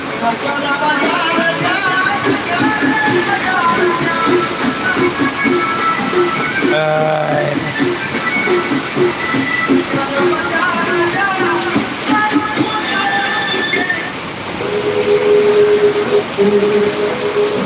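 Heavy rain with floodwater rushing over a footpath during a downpour in Jamkandorna, a steady broadband wash of water running throughout, with someone talking over it.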